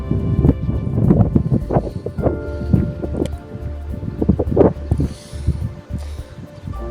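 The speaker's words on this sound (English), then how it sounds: "Wait for the wind to stop." Wind gusts buffet the microphone on top of Deal Castle, a coastal fortress, with low rumbling bursts that rise and fall unevenly. Scattered rustling and thumps come through at close range.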